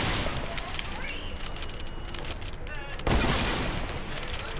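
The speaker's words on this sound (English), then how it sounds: "We're just going off with the hunting rifle" Rapid hunting rifle gunfire in a video game, loud, dense shots packed close together with a heavier burst near the end, over a steady wash of game noise.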